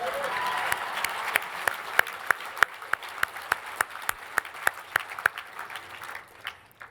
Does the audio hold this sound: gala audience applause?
yes